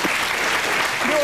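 A short burst of applause from a TV game-show studio audience on New Year's Eve 2003, dense steady clapping throughout.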